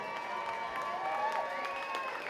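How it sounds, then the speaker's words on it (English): Crowd at a boxing match in New York City gives a round of applause, fairly distant and faint, with scattered claps and some cheering or whistling over a continuous murmur. "Let's get a big round of applause here in New York City."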